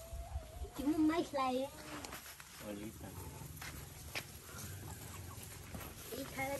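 Chickens in a rural coop cluck in a short, bursty run near the start, then fall quieter while people talk over the background.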